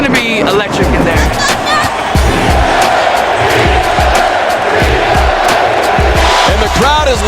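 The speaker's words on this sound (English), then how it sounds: "the crowd is louder than it's ever been in this building" A huge NBA arena crowd roars continuously, loud and dense, with shouts and whistles rising out of the din.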